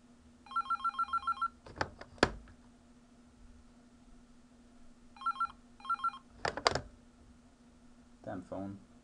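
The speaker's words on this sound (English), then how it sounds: "damn phone. Just keeps ringing." A telephone rings in short trilling bursts, two rings and then two more after a pause. Sharp desk clicks and a steady electrical hum sit underneath, and a brief voice comes at the end.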